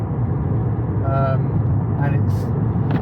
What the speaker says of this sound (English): Exhaust noise is pumped through the car